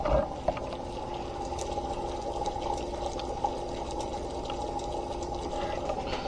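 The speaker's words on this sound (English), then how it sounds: "You can hear the boiling." Water for instant ramen bubbles and simmers steadily in a pot, a continuous low churning with occasional small pops.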